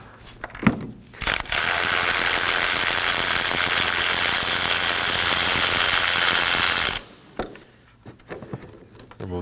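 A ratchet spins out an 18 mm torque strut mount bolt on a 2015-2023 Nissan Maxima 3.5L V6. A loud, continuous whirring buzz runs for about five seconds, framed by brief clicks and handling noises before and after.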